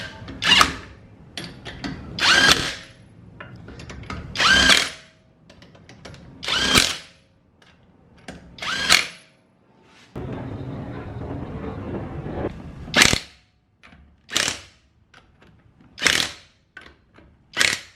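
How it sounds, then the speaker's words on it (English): A Lagatuns brushless cordless impact wrench tightens the lug nuts on a car tire, giving a string of short, loud rattling bursts. One longer steady run comes partway through. "after using this brushless cordless impact wrench to change the tire"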